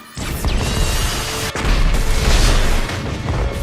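A huge film explosion blows apart a Costco warehouse store in a sustained, loud roaring blast. A rumbling boom carries on for several seconds, with a brief dip midway before the roar swells again, and no voices are heard.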